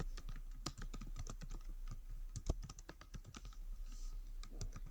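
Steady typing on a computer keyboard while entering JavaScript code, with rapid, close, crisp key clicks in an uneven rhythm and occasional louder strikes, no voices.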